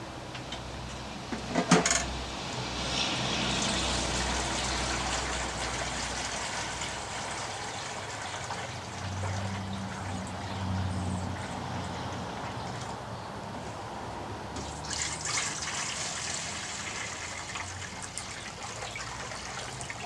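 Water poured into a Power AirFryer XL that is leaking, a steady trickling and splashing with a brief clink of metal early on, close and moderately loud, with no talking.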